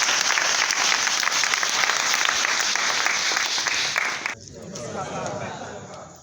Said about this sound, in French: Donc nous allons applaudir papa.